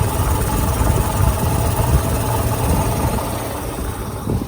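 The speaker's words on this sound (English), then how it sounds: "So a nice smooth idle." A 1994 Mercedes-Benz S500 Coupe with a 5.0-liter V8 idles steadily up close, a smooth, even low rumble with fan and belt whir running throughout, no talking over it.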